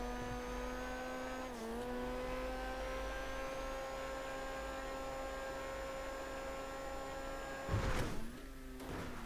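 A racing car engine in the GTA V video game revs high and steady while accelerating, with two quick dips as gears shift, loud and continuous with a brief rough scrape near the end.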